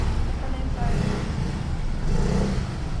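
A Yamaha Mio Gear scooter engine revs steadily and loudly up close, a continuous motor drone with a slight swell toward the end, with people talking over it.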